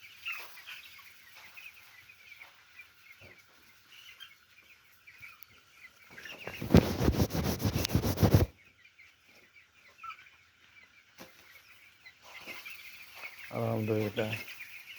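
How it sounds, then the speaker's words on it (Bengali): Chickens clucking inside a poultry shed, a constant soft chorus of many birds at a moderate distance, broken by a couple of loud rustling bursts and a brief voice near the end. "সে আমার মুরগি শেড"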